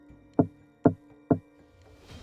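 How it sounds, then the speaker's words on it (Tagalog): Three sharp, evenly spaced knocks strike a wall about half a second apart. They are close and dry, against a quiet background. "3 katok. Direkta sa pader ng likod ko."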